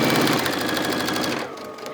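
A sewing machine stitches a hem with a wide 1/2-inch rolled hem foot on a continuous circle, its fast, even needle rhythm running close and steady before slowing and easing off.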